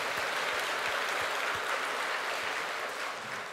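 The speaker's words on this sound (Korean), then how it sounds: "천국 가게 해주신 우리 하나님께 감사 박수 한번 합니다." A church congregation gives a thankful round of applause during a Korean sermon, with dense, continuous, close clapping that holds steady from start to end.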